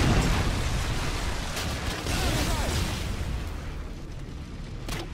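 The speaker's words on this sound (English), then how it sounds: "Friendly predator missile inbound." Predator missile blast in a Call of Duty-style shooter with riot shield and tactical knife play: a loud, broad rumbling explosion opens and slowly decays over several seconds, with a smaller pop near the end.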